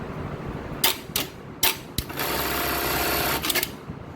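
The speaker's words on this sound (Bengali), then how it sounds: "তো আমরা প্রথমে একটা বারটেক মারি" A Juki bartack industrial sewing machine runs a bartack stitch, giving several short clattering bursts and then a steady close mechanical whir that lasts about a second and a half before stopping.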